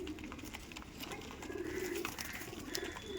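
Giribaz pigeons, an aggressive lot, coo softly in a low, throaty murmur, steady throughout amid light background chatter of birds.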